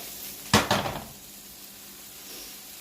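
Garlic goes into a pan of sizzling potatoes and Brussels sprouts, giving two quick loud bursts of hiss and clatter that fade into a soft, steady sizzle.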